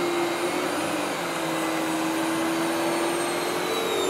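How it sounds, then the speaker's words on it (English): Royal S20 Lexon SR30020 canister vacuum cleaner running on low suction with its power head switched on, a steady close whining roar with a constant motor hum and no pauses. "I'm going to keep this one on low and turn the power head on."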